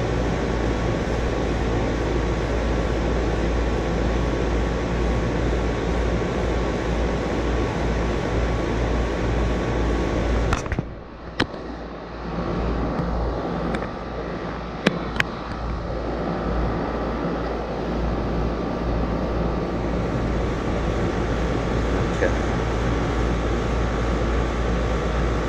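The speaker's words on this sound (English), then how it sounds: "I'm gonna let it clear out the hose and suck as much of it into the machine as possible." An HVAC refrigerant recovery machine drones loudly and continuously as it pulls refrigerant out of a hose, a steady low mechanical hum broken only by a brief dip and a couple of sharp clicks midway.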